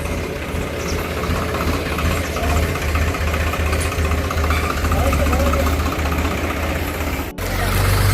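A loaded tractor engine runs steadily nearby at a house construction site, a low chugging rumble throughout, with faint voices beneath it.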